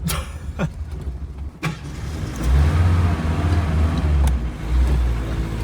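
A car engine running on whiskey fuel hums and strains while driving, a low steady drone that swells after a few clicks and thumps, close and continuous.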